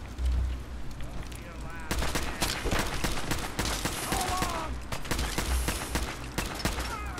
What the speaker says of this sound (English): I accidentally shot Nick in the foot